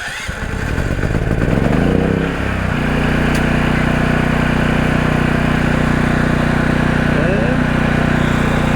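A Westinghouse WGen11500TFC portable generator engine running, starting with a rough sputtering rise and then settling into a loud, steady drone that continues without a break.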